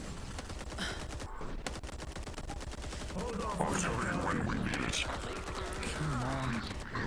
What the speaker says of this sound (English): Magic pistol.